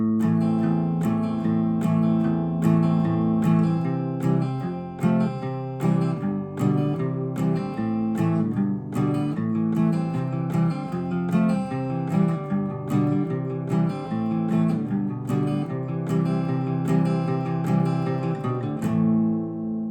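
Acoustic guitar plays the intro of a song at full speed: steady strummed chords with a rhythmic pulse, close and loud, alone with no talk.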